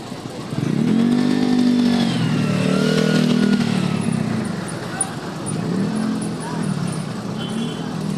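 Busy barangay street traffic during a clearing operation, with motorcycles and cars passing close and loud, engines revving and droning continuously, and a voice talking over the noise.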